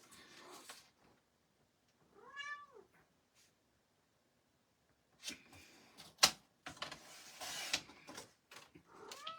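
A house cat meows once, a clear rising-and-falling call near the start, between brief rustling and clattering handling noises from a craft table, close and fairly quiet.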